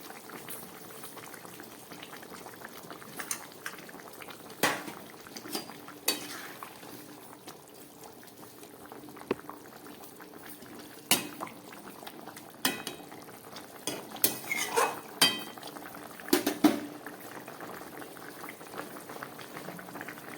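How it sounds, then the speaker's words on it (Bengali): Rohu fish curry with cauliflower boiling in a pot, a continuous close bubbling broken by scattered sharp clinks of a utensil against the pan. "ফুলকপি দিয়ে রুই মাছের ঝোল ফুটে উঠেছে।"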